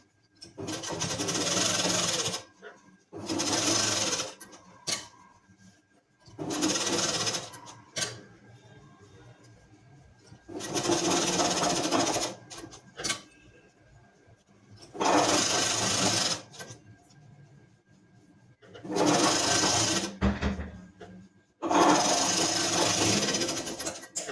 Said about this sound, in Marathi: मशीनची सुई खाली आणि मगच मशीन फिरवायचं, कापड फिरवून घ्यायचं, मगच शिलाई मारायची